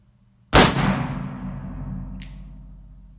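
A single loud, close gunshot from a Pietta Colt 1861 Navy revolver at a shooting range, a sharp crack followed by a long rumbling decay and a faint later click.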